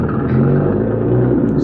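A car engine rumbles loud and close in a radio drama, a steady low idle with a slight rise like it's being started and revved, no talk over it.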